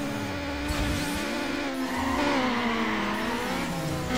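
A street-racing car in Need for Speed Underground launches hard off the start line, its engine revving and climbing through gears with tire squeal, loud and steady over about four seconds with no talk.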